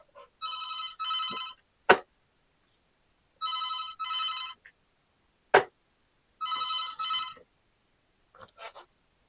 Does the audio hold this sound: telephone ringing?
yes